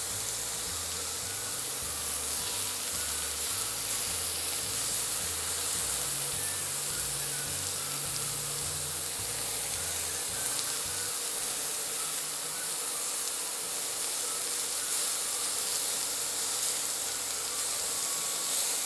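Pork pieces fry in a hot pan for teriyaki, giving a steady, dense sizzle and hiss that holds for the whole stretch, with a low hum underneath early on and no voices.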